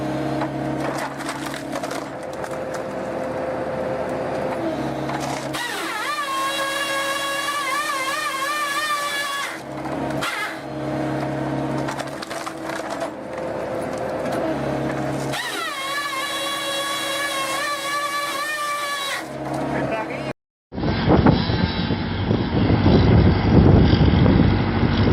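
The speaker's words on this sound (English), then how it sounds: "The 60-ton log splitter, a colossal machine delivering crushing force far beyond typical equipment." A 60-ton industrial log splitter forces its way through whole tree trunks, with a hydraulic whine that rises and falls over loud, continuous grinding and cracking of wood, followed by a harsher burst of splitting near the end.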